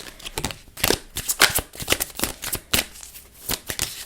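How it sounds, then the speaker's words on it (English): Romance Angel Oracle cards are shuffled close by, a rapid irregular run of crisp papery riffles and slaps with no talking. "got some Romance Angel Oracle cards here"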